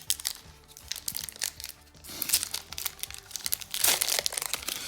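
Foil booster packs of Pokémon cards being torn open and handled, with close, bursty crinkling and crackling that comes in irregular waves, louder in the second half, with no voices.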